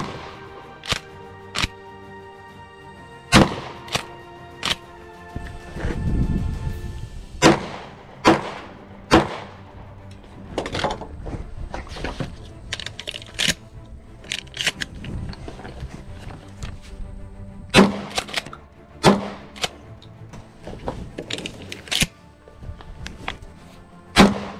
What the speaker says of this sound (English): I hope you enjoyed some of those shooting clips